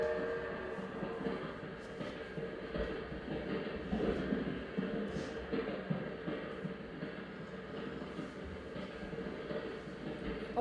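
A train travelling on the Trans-Siberian Railway through Russia gives a continuous low rumble and rattle heard from inside, with faint knocks and creaks over the steady drone.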